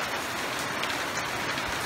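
Steady rain falls outdoors at the end of a dry season, a constant even hiss with no breaks and nobody speaking.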